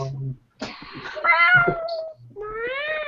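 A cat meows several times up close, drawn-out and wavering calls, with a short gap and another rising meow at the end.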